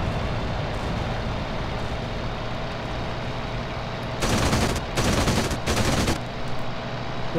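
Three loud bursts of machine-gun fire close to the player's Macchi 205 fighter over North Africa in IL-2 1946, cutting over a steady engine drone.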